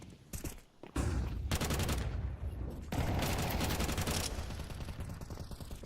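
Dense, rapid bursts of FAMAS rifle fire in a Counter-Strike match, loud and continuous across most of the clip with short pauses between volleys and no talk.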